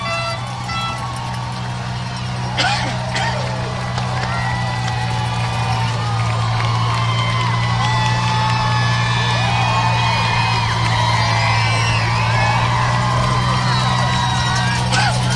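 Crowds five or six deep line the New York City Marathon route in Manhattan, a continuous roar of cheering and whoops mixed with a low vehicle engine hum, while a commentator talks over it.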